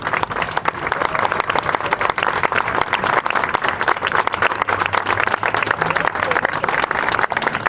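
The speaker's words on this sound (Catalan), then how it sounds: "també demano per ell un aplaudiment per la feina que està fent al Parlament" An audience claps steadily throughout at an outdoor political event for the Catalan national day, a dense, sustained round of applause from a crowd, moderately loud and without speech over it.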